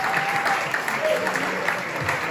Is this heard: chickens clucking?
no